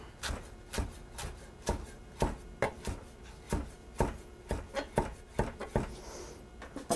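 A knife chopping fresh basil leaves on a cutting board for a pork and peppers dish, a steady series of soft close knocks spaced roughly half a second apart, with no talking.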